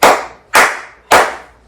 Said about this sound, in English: So I'm just going to make a clap sound.